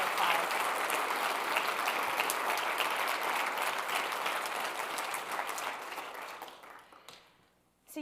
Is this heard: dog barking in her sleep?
no